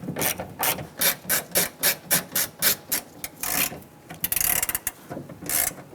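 A ratchet tightens a Torx screw on the door of a 2002-2008 Dodge Ram 1500, making a quick run of loud, close, regular clicking rasps that turn into faster, irregular strokes toward the end.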